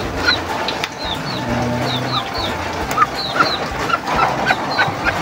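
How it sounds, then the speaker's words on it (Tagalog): Newly hatched chicks peep in short, high, rising chirps, repeated many times at irregular intervals over a constant background hum of rain and ambient noise, fairly close by. "Tara, silipan natin itong bagong pisa."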